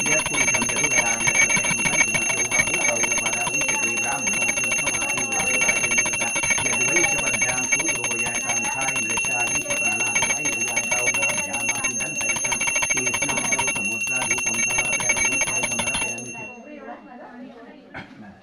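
A small brass hand bell rung rapidly and continuously during a Satyanarayan puja, a bright sustained jangle with voices chanting underneath, stopping abruptly near the end.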